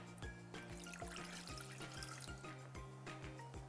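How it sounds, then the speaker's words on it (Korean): Water pours steadily into a pot, a continuous splashing trickle with a faint rhythmic background hum throughout. "먼저 냄비에 육수에 사용될 물을 넣습니다."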